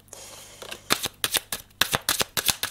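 Tarot cards being shuffled, a soft rustle followed by a string of crisp riffling bursts coming in quick, uneven succession, close and fairly quiet with no talk.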